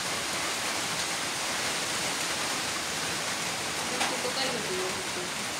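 Light drizzle falls steadily in a rural village, a soft even hiss of rain that stays constant throughout with no distinct drops standing out.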